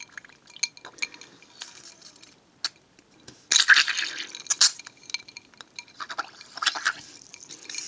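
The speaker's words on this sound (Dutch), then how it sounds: "Het bubbelt." A LOL Surprise doll bubbling in water: close, soft fizzing and gurgling with scattered little clinks and splashes, growing busier in a few short bursts.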